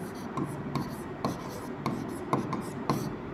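Pen or marker scratching on a board or page while a maths lesson is being worked through, with short strokes repeating at a steady rhythm, close and fairly soft.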